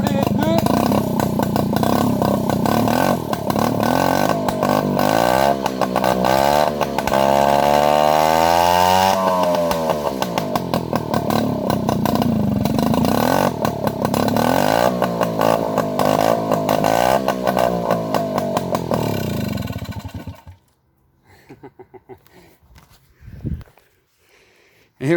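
A 1953 Motobecane AV88 moped engine restarts and revs loudly, its pitch rising and falling in repeated sweeps for about twenty seconds before cutting out, leaving a few faint sputters and knocks.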